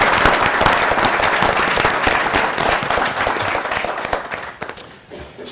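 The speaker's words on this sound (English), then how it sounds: "So let's give all of our panelists a rousing round of applause." Panel event audience breaking into a loud, dense round of applause for the panelists, sustained for several seconds before thinning out and fading near the end.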